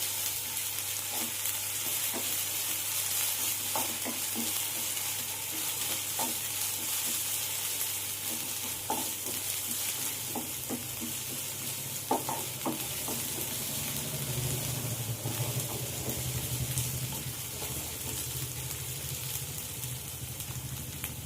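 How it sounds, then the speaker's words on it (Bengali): Onion and ginger-garlic paste frying in a pan for a prawn dish, giving a steady, even sizzle with occasional light stirring clicks throughout, no talking. "পেঁয়াজের সাথে আদা রসুনটা ভুনা হয়ে গেছে"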